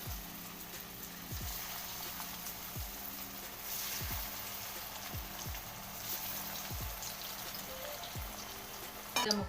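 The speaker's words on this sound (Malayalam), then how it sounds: "ഓരോ റോളുകളാക്കി എണ്ണയിലേക്ക് ഇട്ട് കൊടുക്കുക." Vegetable rolls coated in maida flour fry in hot oil with a soft, continuous crackling sizzle, faint and steady throughout, rising slightly at the very end.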